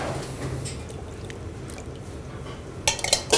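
Liquid is poured into a homemade pearl barley drink with lemon, a steady soft splashing flow, followed near the end by a few light clinks of dishes or utensils.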